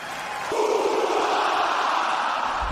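A capacity arena crowd at a wrestling match swells into a loud, sustained roar of cheering and yelling that jumps up suddenly and then holds steady.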